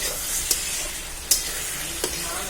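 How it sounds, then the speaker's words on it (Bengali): Chicken frying with spices in a wok (kadai) hisses loudly and continuously, with three sharp spatula scrapes spaced through the short stretch. "আগে মশলা ভেজে নিয়েছি, এরপর মাংস ছাড়লাম কড়াইতে।"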